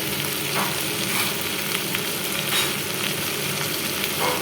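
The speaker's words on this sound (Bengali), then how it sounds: "আর ভেঙে নিয়ে আমি কড়াইতে মশলার মধ্যে দিয়ে দিয়েছি। তারপর মশলার সাথে ভালো করে মিক্স করে নিতে হবে।" A fish head is fried with masala in a kadai and mixed while it cooks. A loud, dense sizzle runs throughout with continuous stirring scrapes, and no voices.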